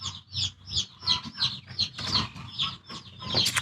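Silver laced Wyandotte and other hens clucking in a backyard flock, with repeated short calls in a steady, close rhythm and a few louder squawks near the end.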